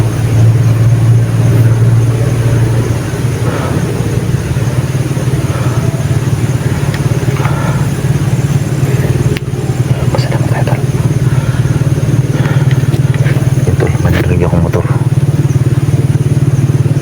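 A motorcycle engine passing close by, a loud, steady, low droning rumble that holds for the whole stretch, with some voices faintly mixed in.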